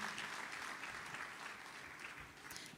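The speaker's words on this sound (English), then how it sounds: "Kindly clap for our panelists as they step down." Audience applause at a women's health and wellness event as panelists leave the stage, a soft, even wash of clapping from a room of people, fairly distant and continuous.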